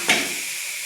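Grated coconut tipped into a small hot karahi on a gas stove, giving a brief soft sizzle that quickly fades into a faint, steady hiss.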